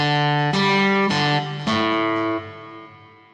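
Distorted electric guitar chords ring out, three strummed hits with sustained, processed tones that slowly fade.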